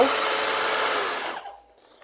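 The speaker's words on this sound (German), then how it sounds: "das ist wirklich ein super Staubsauger, den ich gar nicht mehr missen möchte" A Zilan cordless stick vacuum cleaner whines loudly and steadily close by, then is switched off and winds down to quiet within about half a second.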